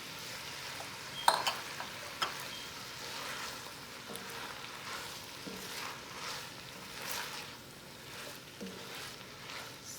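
Frozen peas and mixed vegetables for pulao sizzle and fry in a pan, with a soft continuous crackle, a few clinks and stirring scrapes near the start, at low volume with no voices.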